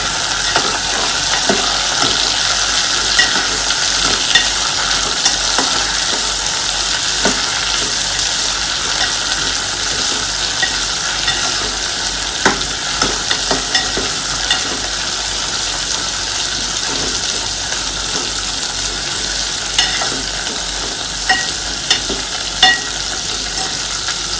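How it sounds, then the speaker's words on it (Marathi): Stirring masale bhaat rice with frozen peas in a pan, a steady close scrape and soft sizzle running throughout with scattered small clicks, no talking. "याला मी मिक्स करून घेते व्यवस्थित"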